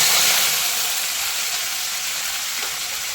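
Mustard seeds and curry leaves fry in hot oil with a loud, dense, continuous sizzle and hiss that eases slightly over the short stretch.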